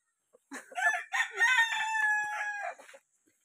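A rooster crows loudly and close by in a rural Bicol yard, one long drawn-out crow, with a brief cluck of chickens before it.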